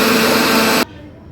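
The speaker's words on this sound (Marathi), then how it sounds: "आता हे मिश्रण आपण मिक्सरला फिरवून घेऊयात" A mixer grinder blending sugar for lassi whirs loudly and steadily, then cuts off abruptly, leaving only a faint hum.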